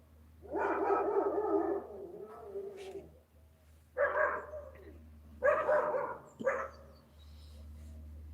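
A dog barks in several loud bursts close by, with a pause between groups, over a steady low background hum, with no talking during the barks.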